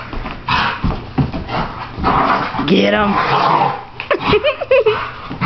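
A big dog plays roughly with a man, with whimpers and short yips mixed into lively, excited talk and laughter close by throughout.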